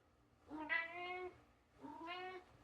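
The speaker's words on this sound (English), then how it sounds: "I turned around and the cat just appeared and is staring me down." A cat meows twice, two drawn-out tonal calls about a second apart, moderately close and clear over a quiet indoor background with no talking.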